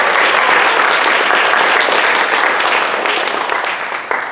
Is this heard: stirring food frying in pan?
no